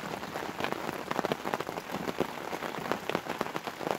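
Persistent rainfall drums on a fishing bivvy shelter, a constant close hiss dotted with sharper droplet hits, no voices, just the downpour.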